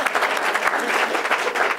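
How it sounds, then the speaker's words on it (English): An audience at a civic budget event for the City of Chicago gives a round of applause, dense steady clapping filling the short stretch at a strong level. "Round of applause."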